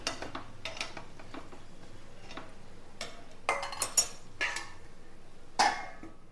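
Spoon scraping and clinking against a pan while kozhukattai dough is stirred with ghee over a low flame, a series of light, irregular metallic taps and scrapes, some sharper clinks standing out, with no voices.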